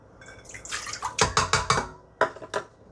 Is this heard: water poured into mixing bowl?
yes